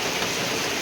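Rain falls steadily in a dense, hissing wash that lasts less than a second.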